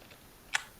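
One quick keystroke on a computer keyboard, a single crisp click in near silence.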